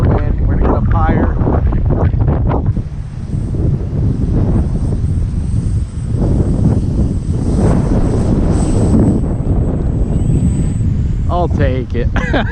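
E-Flite Ultimate 2 RC airplane flying and coming in to land in high wind, its motor whining steadily under heavy wind buffeting on the microphone, with voices talking over it.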